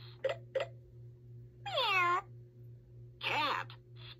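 Electronic cat meows from a VTech Write And Learn Smartboard toy, two drawn-out synthetic mews after a couple of short clicks, close and clear.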